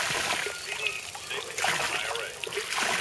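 Cold spring water flows out of the ground outdoors in a continuous splashing, trickling rush that stays close and fairly loud, rising briefly in surges.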